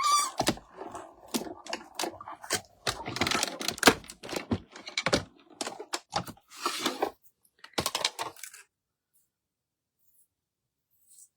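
A papercraft card run through a die-cutting machine, heard as a series of close, clicking, crunching mechanical clacks for several seconds, then silence.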